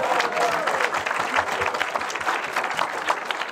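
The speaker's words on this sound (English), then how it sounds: "can we please have a round of applause for Jacob?" An audience at a B'Oscar Awards event applauds steadily for a participant named Jacob, a dense, even wash of many hands clapping that holds for the whole stretch without talk.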